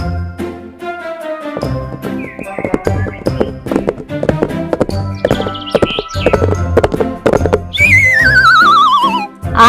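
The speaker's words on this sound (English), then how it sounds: "H for horse." Horse neighing near the end, a loud shrill quavering whinny that follows a stretch of tapping, clip-clop-like knocks and light jingling.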